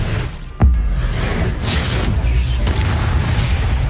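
Expelliarmus spell cast in the Hogwarts Legacy video game: a sharp booming impact lands early, followed by swishing whooshes and rumbling magical effects as the duel continues.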